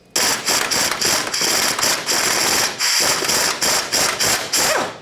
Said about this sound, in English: We're going to be looking for 2 more 12mm headed bolts